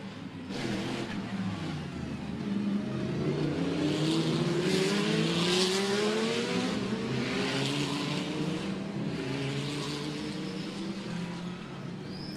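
GT cars at the Macau Grand Prix run in a pack behind a BMW safety car, engines droning and revving at moderate distance with rising and falling pitch as they pass, steady and continuous throughout.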